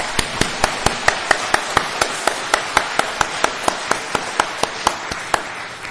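A church congregation claps together in unison, about twenty crisp, evenly spaced beats over a faint background murmur, keeping a steady rhythm from start to finish.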